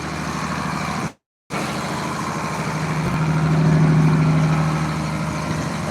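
A feed mixer wagon running off a tractor PTO at about 1,500 RPM makes a steady low engine drone with a faint mechanical whine. There is a brief dropout early on, and a slight swell follows.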